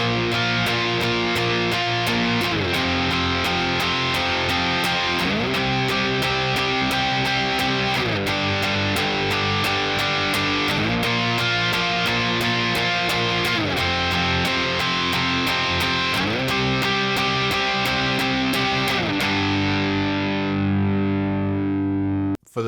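Heavily distorted electric guitar playing the intro riff of a song, steady driving chord pattern repeating loudly for over twenty seconds before cutting off abruptly at the end.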